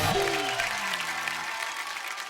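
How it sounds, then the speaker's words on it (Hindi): An audience applauds for Chandan at an army-themed event, continuous clapping that begins with a brief overlapping tone and then settles into a fading wash. "चंदन के लिए जोरदार तालियां है मेरा भाई"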